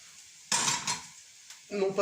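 Onion and chorizo frying in a pan, quiet sizzling broken by bursts of stirring and scraping of a utensil against the pan, close and moderately loud, no talk.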